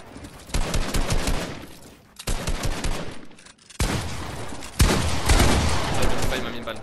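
Rapid gunfire in a Fortnite-style video game box fight, dense bursts of shots in loud clusters with short pauses between them, with a voice talking underneath.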